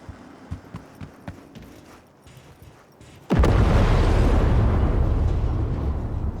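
A burning vehicle in Cyberpunk 2077 blows up: a few hollow clip-clop knocks, then a sudden loud explosion that becomes a sustained roaring, crackling blaze, close and dominant.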